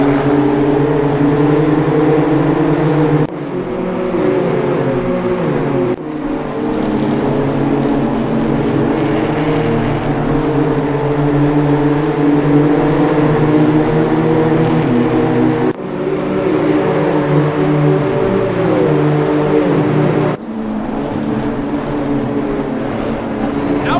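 BMW M2 CS Cup race cars roar around Brands Hatch in a loud, continuous engine drone with shifting pitch, several sharp cuts and gear changes breaking the sustained revving of multiple cars close by.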